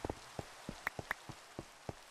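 Rain in the Minecraft Create Flavored modpack falls as sparse, distinct drop-like taps against a soft steady hiss, quiet and without speech.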